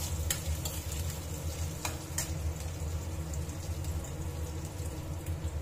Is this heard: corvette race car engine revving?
no